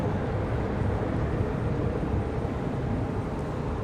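An Airbus A321 departing Charlotte Douglas airport gives a loud, steady broadband jet roar with a deep rumble, unbroken throughout on a windy day, with no voices.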